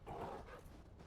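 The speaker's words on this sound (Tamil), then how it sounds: "நாய் சவுண்டு தாங்க கேட்குது." A wolf or dog barks faintly in Dark Souls 3, Ashes of Ariandel area, a short muffled yelp heard over soft game ambience.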